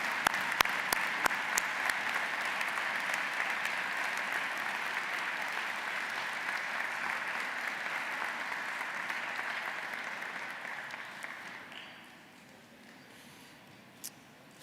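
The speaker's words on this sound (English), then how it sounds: "Graduates, join me in a round of applause." A commencement audience applauds graduates' families, a broad, steady wash of clapping from a large crowd that holds for about eleven seconds, then thins out and fades, with a single sharp clap near the end.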